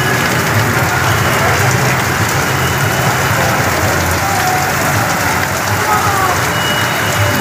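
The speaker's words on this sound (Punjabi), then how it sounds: "ਬਾਰਿਸ਼" Heavy rain pours down at a water park, a loud, constant, close hiss of drops drumming on surfaces and pooling water, with no pause.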